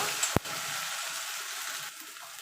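Ginger paste and green chili frying in a pan while being stirred, a soft steady sizzle with one sharp utensil clink early on.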